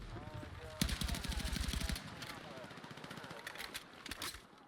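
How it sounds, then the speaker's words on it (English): Video game rifle fire in Battlefield 6, starting with a rapid burst of automatic shots and followed by quieter, scattered tap-fire single shots, while someone talks throughout. "That was like perfect tap firing right there."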